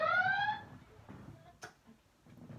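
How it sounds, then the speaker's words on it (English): A portable speaker gives off a low-battery alarm, a short run of bright rising electronic tones at the start that fades out, followed by quieter room noise and a brief sharp click. "my speaker makes an alarm sound when it's starting to die"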